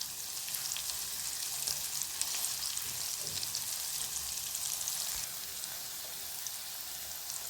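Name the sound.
frying cassava (kappa) pieces in oil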